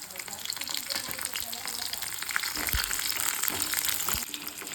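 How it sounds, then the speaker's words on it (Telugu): Peanuts and urad dal frying in hot oil give off a steady, dense hiss that runs the whole time, with small crackles scattered through it at close range. "చూసారుగా మంచిగా వేగుతున్నాయి కదా"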